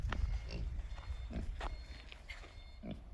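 A very small pig snorts outdoors in the countryside, making a series of short, rough grunts spaced irregularly over low rumbling background noise.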